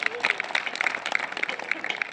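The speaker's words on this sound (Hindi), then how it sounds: "बताओ अगर सुनना चाहते तो ताली बजा दो" An audience at a Hindi humorous poetry recital claps steadily, a dense run of hand claps heard throughout, with a voice faintly underneath.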